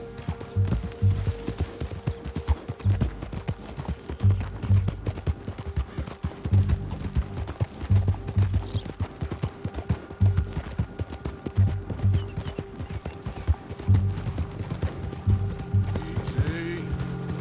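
Horse hooves pound in a steady galloping rhythm through a story mission of a Western video game, close and continuous, with a rider's brief calls now and then over the hoofbeats.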